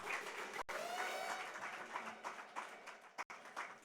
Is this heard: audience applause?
yes